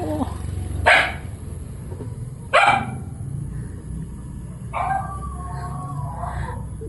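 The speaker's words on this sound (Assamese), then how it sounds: "মানুহতকৈ কুকুৰে আগতে আৱাজ দিছে" Dogs bark at a home as visitors approach, three sharp, loud barks spaced a couple of seconds apart, the last one with a drawn-out yelping tail, over quiet outdoor background.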